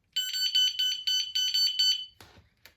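A HIRISI S-5 fishing bite alarm gives a rapid run of about eight shrill electronic beeps, loud and close. A short rustle and click follow.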